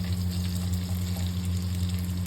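Chili chicken fries with chopped garlic and ginger in a pan, a dense, even sizzle close up over a steady low electrical hum, ending in a brief stir.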